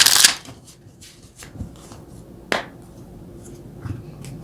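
Tarot cards being shuffled to draw clarifying cards give a quick riffle at the start, then scattered soft slaps and snaps of cards handled close by.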